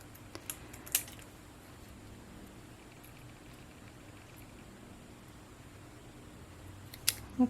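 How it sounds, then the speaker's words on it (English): A few faint, crisp snips as the edge of a card panel for a handmade spring card is trimmed, spread out over quiet room hiss. "So let's try to trim up the bottom."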